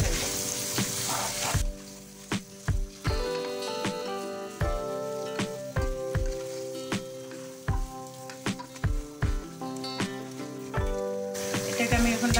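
Country chicken and potatoes frying bhuna style in a pan, a continuous sizzle under background music, punctuated by regular stirring scrapes and knocks of a spoon against the pan.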